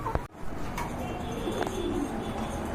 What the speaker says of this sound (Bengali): এক জোড়া কবুতর দেখতে পাচ্ছেন, এটা হচ্ছে রেড অ্যান্ড হোয়াইট কালারের ভিতরে